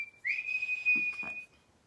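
A person attempting to whistle, a single thin sustained tone lasting about a second, close and fairly quiet, with faint breathy sounds around it.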